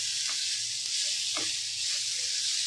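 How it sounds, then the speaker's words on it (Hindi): Tomatoes and spices frying in a pan over a high flame, a steady close hiss and sizzle with a few faint soft stirring taps running under it throughout. "इनको भी हम मीडियम फ्लेम पे भून लेंगे अच्छा सा"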